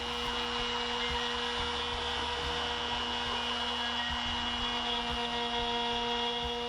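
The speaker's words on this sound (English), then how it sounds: "I'm just gonna manually vacuum it up every now and then" A vacuum cleaner sucks up sawdust from a CNC machine cutting a wooden climbing hangboard, a steady, loud continuous drone with a whining tone that holds throughout.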